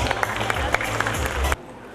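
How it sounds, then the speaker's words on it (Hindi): Loud audience applause at the grand finale of the Mrs. Rajasthan 2024 pageant, a dense burst of clapping with some voices mixed in, cutting off abruptly after about a second and a half. "प्लीज़ एक बार संजीव सर के लिए जोरदार तालियां प्लीज़"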